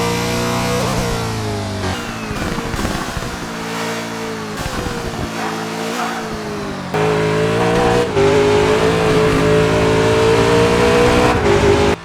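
A race car engine screams around Mount Panorama at Bathurst in the TOCA Race Driver video game, loud and close, revving and shifting through gears without pause.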